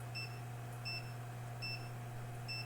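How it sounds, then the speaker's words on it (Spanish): A multimeter set to continuity, testing a component during mobile phone repair, gives four short, faint, evenly spaced beeps over a steady low hum. "En un sentido pita y en el otro sentido va a pitar."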